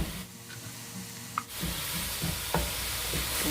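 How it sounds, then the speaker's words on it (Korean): Mushrooms and zucchini stir-fry in a pan over low heat, giving a steady broadband sizzle with a few light scrapes of stirring and no voices. "버섯은 약한 불에 볶으시는 게 좋습니다. 이렇게 물기가 올라오기 시작하면 호박을"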